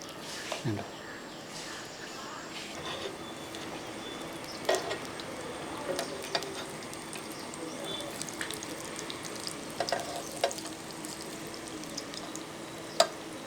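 Batter sizzles softly and steadily in an appam pan over a low flame, with occasional light clinks of a utensil and a voice speaking over it.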